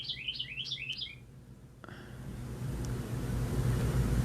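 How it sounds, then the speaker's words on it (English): A small bird chirps in a quick run of bright, high tweets, then falls silent as a low, rising rumble of passing traffic takes over. "You hear the bird?"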